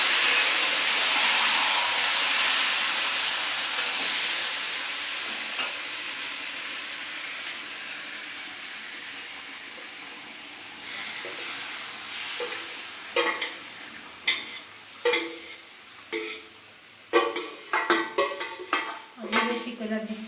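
Meat frying in a pot for biryani, a soft steady sizzle with scraping and clinking stir strokes growing more frequent toward the end, near and moderately quiet.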